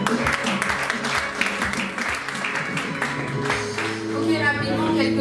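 A church congregation applauding, a dense, sustained wash of clapping with what sounds like music or voices in the background, fairly loud and steady throughout.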